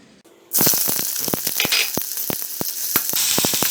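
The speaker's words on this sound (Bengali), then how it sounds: "তেলটা গরম হয়ে গেছে, পেঁয়াজগুলোকে মিডিয়াম আঁচে 5 মিনিটের মতন ভেজে নেব" Onions hit hot mustard oil in a wok over medium heat, bursting into a loud, steady sizzle with crackling pops and spatters running continuously to the end.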